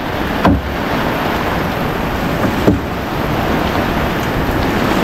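Steady, loud rushing wind buffets the microphone throughout, with a couple of brief thumps and no voices.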